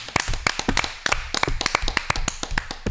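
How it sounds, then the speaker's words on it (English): An audience applauds a special guest being welcomed on stage: a dense, lively patter of hand claps, loud and close, continuing steadily with no talk over it. "Didn't expect applause."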